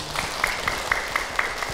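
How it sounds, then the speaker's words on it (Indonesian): Brief applause from a women's audience at an Islamic sermon, with a few distinct claps standing out over a steady low murmur of the crowd. "Baik Ibu, tepuk tangan untuk Abi"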